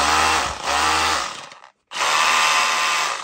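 A Milwaukee drill runs loud and close in hammer mode, buzzing and rattling, then cuts out briefly before starting again at full speed.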